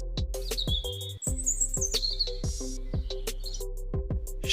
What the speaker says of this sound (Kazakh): Шымшық.